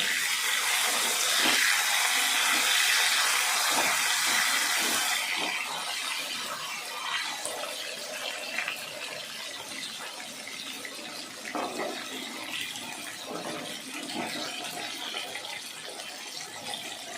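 Potatoes frying in hot oil with black cumin and bay leaf, a steady loud sizzle that softens after a few seconds into a quieter crackling hiss with small pops.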